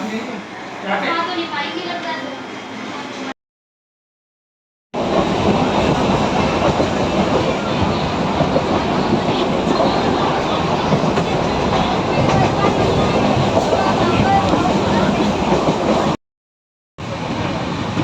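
Carriage of a moving train with a steady, dense rumble and rattle of wheels on rail, broken by two brief silent gaps, and a person speaking near the start over the noise.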